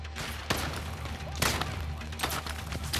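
Revolver fired in the VR shooter Zero Caliber, a few sharp thumping shots spaced apart over a steady background hum, with no talk.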